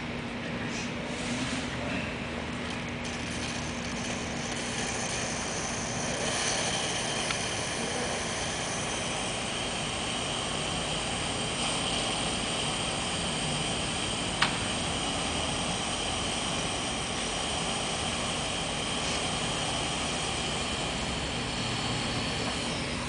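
A wind tunnel runs with a continuous, dense roar of rushing air at a steady level for over twenty seconds, with a single brief click partway through and no voices.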